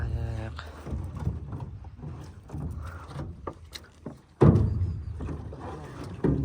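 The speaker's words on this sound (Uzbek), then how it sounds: "Qayiq." A small fishing boat on the Amu Darya river, with water sloshing against the hull and a heavy knock about two-thirds through, while people talk over it.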